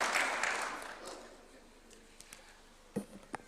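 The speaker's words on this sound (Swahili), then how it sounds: "Tupigie makofi tafadhali" Applause at a State House event in Nairobi welcoming a cabinet secretary, a broad clatter of clapping that is loudest at the start and fades over a few seconds, leaving scattered faint claps and a couple of sharp sounds near the end.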